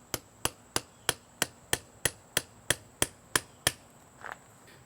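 A hammer strikes a punch into a metal bus bar, about a dozen sharp, evenly spaced metallic blows in quick succession, close and loud, followed by a softer, duller knock.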